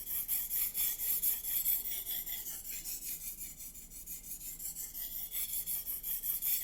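A Racer M knife being sharpened on a Japanese whetstone gives a steady, close rasping scrape, with the blade drawn back and forth in an even rhythm and no voices over it.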